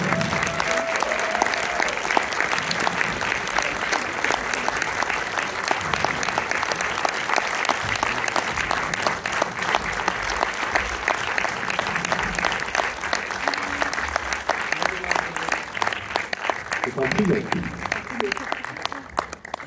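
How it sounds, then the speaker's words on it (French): An audience in a cinema screening room applauds the film's directors and lead actor at a premiere in Orléans, a dense, steady clapping that runs unbroken for about twenty seconds, with voices faintly mixed in. "Je vais vous demander encore une fois, bien évidemment, d'applaudir les réalisateurs du film"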